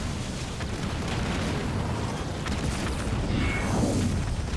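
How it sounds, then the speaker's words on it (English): Anti-air turrets in the Halo Wars 2 strategy game pound away continuously, a dense, loud wash of booming blasts and rumbling fire that never lets up. "The anti-air turrets are working overtime"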